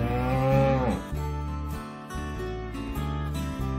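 A cow moos loudly and close, one long drawn-out call that rises and then falls in pitch, followed by a lower, steady lowing that trails off.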